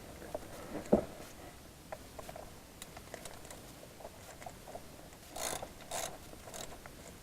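Ratchet tightening screws into the aluminium body of a BMW E39 520 transmission, faint scattered clicks and small taps with a couple of louder knocks, no talk.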